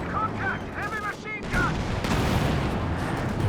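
Double Nebelwerfer rocket artillery fires in the Company of Heroes 2 strategy game, with rising whooshing rocket shrieks in quick succession followed by a heavy rumbling barrage of blasts and crackling gunfire.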